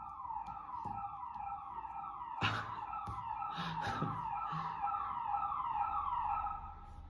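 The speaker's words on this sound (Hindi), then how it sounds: "आवाज़ आ रही है पुलिस की सायरन की" A police siren wails continuously, sweeping up and down in steady cycles, fairly loud and nearby, with a few thumps and rattles partway through.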